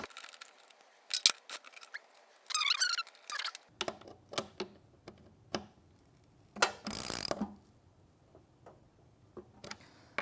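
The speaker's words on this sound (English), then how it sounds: "And then I'll take my socket or my wrench and tighten these down" Socket wrench ratcheting to tighten bolts while a Konnector is fitted to an Allegro reformer, with quick bursts of close metallic clicks separated by short pauses.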